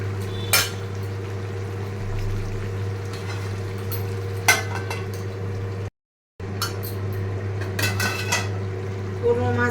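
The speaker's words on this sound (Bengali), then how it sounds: "মাছটা দিয়ে এখন একটু ডাকা দিয়ে দিই" A metal lid sets down over a pan of fish cooking in a home kitchen. A few sharp clinks ring out at intervals above a steady low hum.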